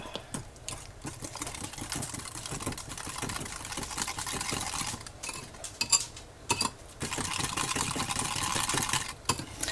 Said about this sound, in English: we're just going to whisk this up